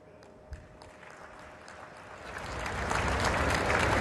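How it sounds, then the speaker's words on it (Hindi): Audience applause at a political speech: quiet room tone with a single early knock, then clapping swells in over the last half and holds at full strength, a large crowd applauding together. "इधर ताली बजाने में देर हो गई।"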